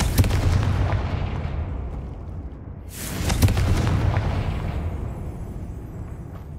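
Two loud booming blasts from the Confringo explosive spell in the Hogwarts Legacy video game, one at the start and another a few seconds later, each with a rumbling, crackling decay and no voices.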